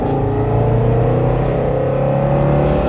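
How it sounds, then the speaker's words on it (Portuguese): A car engine roars to life as an audio drama effect, giving a loud, steady, close rumble with a droning hum that holds evenly all the way through, no voices over it. "o motor rugiu para a vida"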